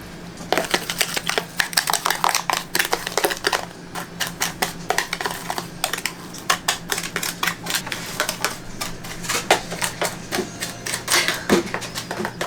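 A seasoning mixture stirred by hand in a camper kitchen, quick rapid clicking and tapping of a utensil against a bowl in dense bursts, close and fairly loud, with no talk.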